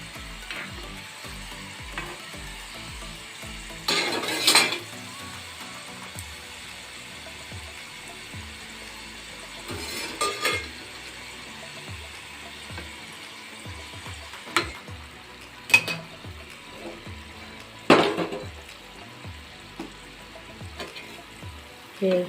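Paneer and pea samosas frying in oil, a soft steady bubbling sizzle with intermittent louder splashes and clatters as the pieces are turned over.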